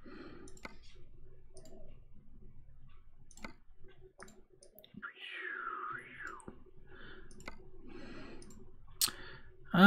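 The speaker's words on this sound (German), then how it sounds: "Ach ja, immer dieses Durchklicken, die klicken." Sparse, quiet menu clicks in American Truck Simulator, isolated ticks scattered through about ten seconds over a low hum, with one brief whistling tone midway.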